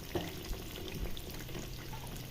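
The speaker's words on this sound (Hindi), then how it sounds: "देखिए बहुत ही फ्राई हो रहे हैं, मज़े के फ्राई हो रहे हैं।" Pinwheel potato samosas frying in oil over medium heat, giving a soft, even bubbling sizzle that holds steady for the whole short stretch, with no voices.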